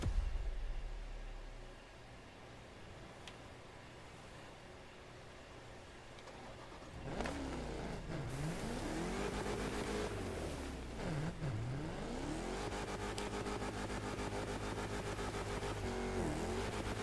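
A Dodge Charger SRT Hellcat in the racing game The Crew Motorfest: a low idle hum for several seconds, then the engine revs hard in repeated rising and falling sweeps, fairly loud and continuous.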